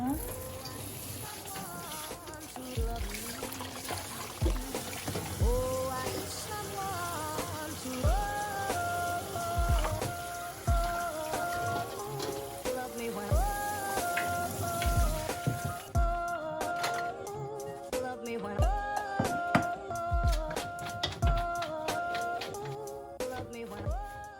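Fresh mugwort being washed by hand in a basin of water, with steady splashing, dripping and sloshing across the whole stretch, close and continuous without talk.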